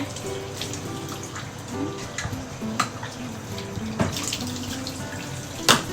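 Water runs from a tap into a sink during dishwashing, a soft steady splash with occasional clinks and knocks of items being rinsed, fairly quiet and close, with no speech over it.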